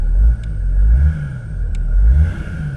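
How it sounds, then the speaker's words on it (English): A BMW E46 engine idles and revs while parked, its low rumble rising and falling in a few gentle swells, close and fairly loud with no talking. "Look how many revs the car's doing."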